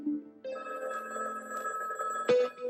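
A telephone bell rings as a gag, suggesting a makeshift car phone rigged up in a 1990 Ford Ranger pickup; a steady ringing tone runs for about two seconds, then a louder clattering burst near the end, with no talk.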